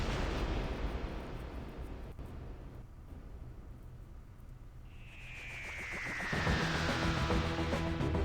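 A gunpowder blast sets off fireworks in a Doctor Who adventure video game: a long, loud, rumbling roar, then a falling whistle and a crackling burst near the end.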